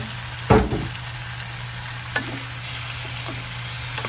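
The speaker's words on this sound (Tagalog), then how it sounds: "igisa lang natin ang konti itong para matanggal lang yung langsa" Fish sautéing in a pan sizzles steadily, with one loud stirring clank early on and a few lighter scrapes after it, no voices.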